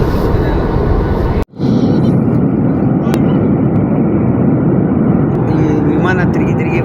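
A passenger airplane in flight gives a loud, steady broadband engine roar heard from inside the cabin, with a brief dropout before the drone resumes unchanged.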